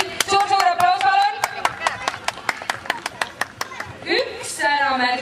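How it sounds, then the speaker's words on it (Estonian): An audience at a family day event gives a burst of sharp, rhythmic clapping with distinct claps in a steady beat, while a voice talks briefly over the start and end. "Suur aplaus, palun."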